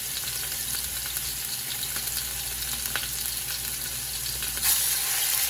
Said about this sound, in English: Now we're going to sear these about 1 to 2 minutes per side.